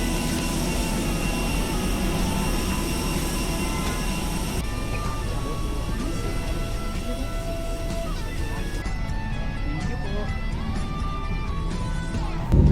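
A steady aircraft engine drone, heard from an airport terminal waiting area, hums and whines throughout at a moderate distance, with indistinct talk and terminal noise mixed in.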